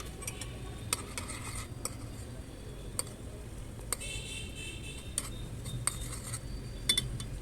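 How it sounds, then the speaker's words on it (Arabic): Caramel sauce being stirred in a pot with a utensil, giving scattered light clinks and taps of metal against the pan over a low steady background rumble, fairly quiet. "بنفضل رايحين جايين نقلب فيها عشان خاطر ما تعملش ارضيه من تحت او تتحرق"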